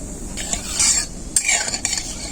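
Black cumin sizzling in hot mustard oil in a wok, with a few sharp crackles and the scrape of a spoon stirring, close and fairly loud, no voices.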